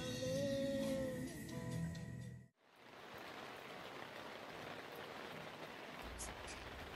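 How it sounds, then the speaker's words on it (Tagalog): Rain falls steadily through the night at a riverside campsite in Tanay, Rizal, a dense even hiss that takes over after a brief hum cuts out, continuing alone and close. "Magdamagan talaga ulan dito."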